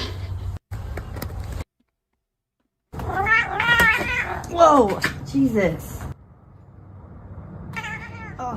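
A cat meows and caterwauls in several drawn-out, rising and falling yowls close by, with a person exclaiming around the cries.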